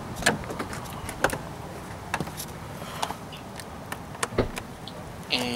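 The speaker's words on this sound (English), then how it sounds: "That was the trunk opening" A BMW trunk latch released from the inside button, heard as a few sharp mechanical clicks and thunks spaced through the clip against faint car background, with no talking.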